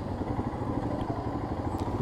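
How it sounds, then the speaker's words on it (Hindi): A Bajaj Avenger motorcycle being ridden on a mountain road in Ladakh, its engine giving a steady, throbbing mid-pitched drone with rapid pulsing, close and continuous, no voices. "बेनेट को कुछ तूफानी करना था, इसलिए उसने बिना ब्रेक वाला एवेंजर ले लिया है।"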